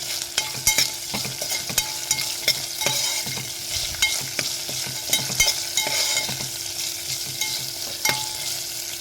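Curry leaves, chilies, mustard seeds and salt crackle in hot oil as a tempering for dhokla, a loud continuous sizzle close up, dotted with sharp pops and spatters throughout, with no talking.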